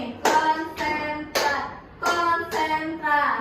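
A grade 7 class does a rhythmic clapping concentration routine, with six evenly spaced, loud hand claps close by and voices chanting along between them.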